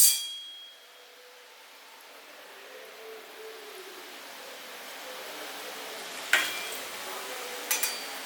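Murukku dough frying in hot oil, giving a soft continuous sizzle that stays quiet and steady, with a few sharp metallic clinks of a utensil near the end.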